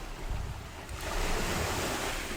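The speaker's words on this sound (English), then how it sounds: "I'm a bit surprised of how many videos I took of waves breaking onto rocks" Ocean waves break onto rocks along the coast near Mossel Bay, South Africa, a loud close roar that surges after a moment and holds, with some wind buffeting the microphone and no voices.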